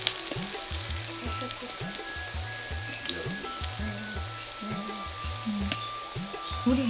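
Food frying in a pan over a very hot village stove fire in Bogura, a steady dense sizzle running throughout with scattered crackles and a low rhythmic background thumping.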